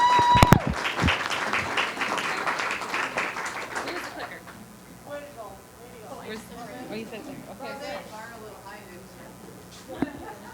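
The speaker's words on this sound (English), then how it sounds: "Let's give another round of applause for the Wolf Pack" An audience at a chamber of commerce leadership graduation applauds loudly at first, then the clapping fades as a voice talks over the room and scattered chatter continues.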